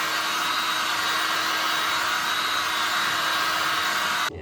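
A heat gun blows hard and steady while warming butyl sealant on a headlight during a lens swap, a loud continuous airy roar close by that cuts off sharply near the end.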